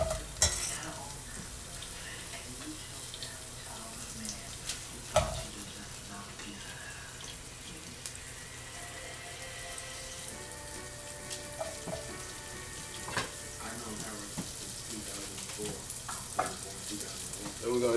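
Onions frying in hot oil in a pot for acorn squash soup, a steady close sizzle with occasional stirring clatter and utensil knocks, fairly quiet throughout.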